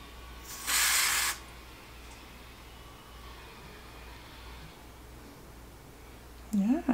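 Hair filler spray from an aerosol can, one short, loud hiss lasting about half a second, close by in a quiet room, then a brief clatter at the end.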